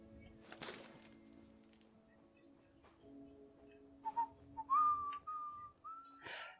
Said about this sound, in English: He started whistling